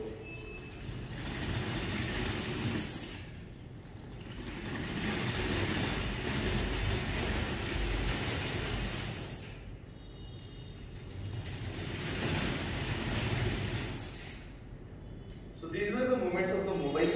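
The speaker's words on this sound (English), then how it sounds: "since it has this beautiful mechanical wheels with rollers, I can also move it sideways" A mobile manipulator robot on mecanum roller wheels drives sideways: electric drive motors whir in three long runs separated by brief pauses, with short electronic beeps and clicks between the runs.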